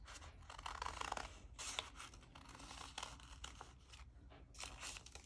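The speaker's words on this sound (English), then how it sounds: "All right, so we're gonna cut this part in." Scissors snip through folded paper for a three-dimensional paper snowflake ornament, giving a run of close, crisp cutting and rustling bursts with short pauses between strokes and no talking.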